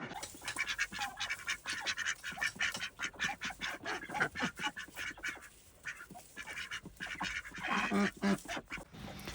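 Ducks quack repeatedly while being herded into a pen for the evening, a rapid, rhythmic series of loud nasal calls, fairly close, with a short lull midway before the calling resumes.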